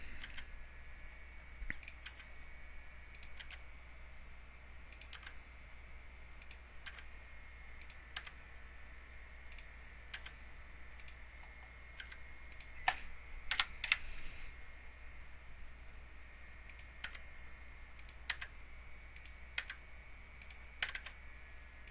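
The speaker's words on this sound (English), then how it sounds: "You hit the tab key, which is in the upper left-hand corner of your keyboard" Keys on a computer keyboard are pressed while working in Microsoft Word 2003, giving sparse, quiet clicks scattered over a low steady hum, with a short flurry of taps near the middle.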